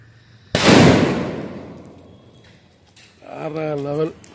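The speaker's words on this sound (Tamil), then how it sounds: "அந்த சிலிண்டர் பாம் எப்படி வெடிச்சது" A cylinder bomb firecracker bursts with one sharp, loud bang during Diwali celebrations, its blast decaying over about two seconds before voices begin talking nearby.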